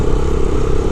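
A motorcycle engine drones loudly and close with rough wind buffeting while riding a winding mountain road in Pakistan's Yasin Valley toward Darkot.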